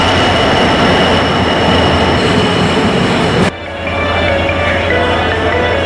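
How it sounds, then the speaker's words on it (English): The Yaldevi train arrives at Jaffna railway station with a loud, continuous rumble of wheels on rails and a high squeal. The noise drops abruptly partway through and a lower hum continues. "The Yaldevi train arrived at the Jaffna railway station at about 1 p.m."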